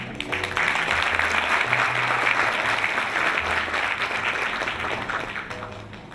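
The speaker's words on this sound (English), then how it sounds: "Please welcome him with a big round of applause." A crowd at a peace event in Myanmar breaks into sustained applause welcoming a Buddhist representative to the stage, a steady wash of clapping that holds strong for several seconds before tapering slightly.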